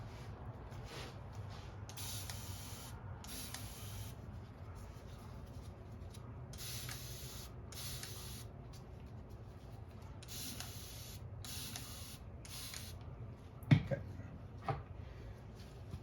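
Repeated bursts of misting from a spray bottle over expanding foam for a DIY archery target, several short hissy sprays in irregular pairs against a quiet background, with a couple of faint knocks near the end.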